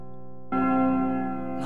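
A clock tower bell in the Kindaichi mystery game strikes once, loud and ringing, its long tonal hum sustaining and swelling again near the end, with no voices.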